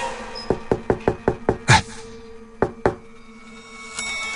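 Knuckles rap on a bedroom door in a house in Yogyakarta: a quick, even run of six close, loud knocks, a short pause, then two more spaced knocks before the room falls quiet.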